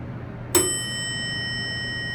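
A single bright chime rings from an old Otis elevator's arrival bell, striking once and then sustaining a clear, steady ringing tone that lingers without fading, over faint background hum.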